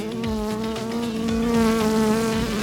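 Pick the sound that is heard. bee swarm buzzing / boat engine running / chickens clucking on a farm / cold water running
bee swarm buzzing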